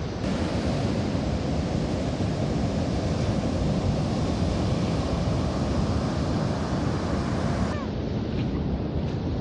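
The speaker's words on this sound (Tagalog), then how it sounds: "Wala pong nangingisda ngayon at napakalakas po ng alon dito sa ating paligid" Strong, heavy sea waves surge at a beach in San Juan, La Union, making a loud, unbroken roar with wind buffeting the microphone throughout.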